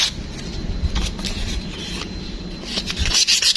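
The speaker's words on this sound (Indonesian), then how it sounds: "Jadi amplas sampai di tepi-tepinya seperti ini." Sandpaper is rubbed by hand over the surface and edges of a carbon forged vape mod, making close, loud rasping strokes in a steady back-and-forth rhythm.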